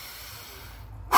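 A single sharp, forceful breath bursts out loud and close at the very end of a breathing exercise, following about a second of quiet room hiss with no talk.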